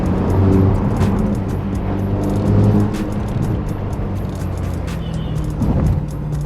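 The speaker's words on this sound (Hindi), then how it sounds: "so I can really belt the car and you can hear the roar" A Ferrari Portofino M is driven hard on the road, its engine roaring loudly from inside the car and swelling and easing as it accelerates, with no voices.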